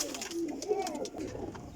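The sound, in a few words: pigeons cooing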